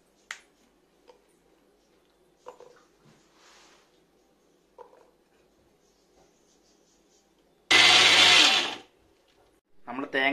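Coconut with garlic, shallots and spices crushed in a kitchen grinder: a loud, dense whirring burst of about a second, set among soft clicks and taps, with a second short grind starting at the end.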